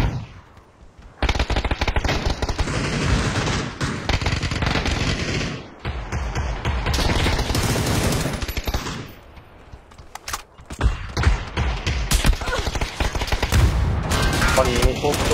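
Video game gunfire in dense automatic bursts and rapid single shots, loud and continuous with brief lulls, with voices under the shooting.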